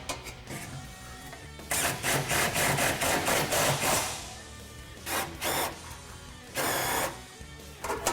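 Clanks, scrapes and metallic knocks come from installing an exhaust hanger on the frame of a 2017 Ford F-150 Raptor during a cat-back exhaust fit, in irregular close bursts with short pauses between.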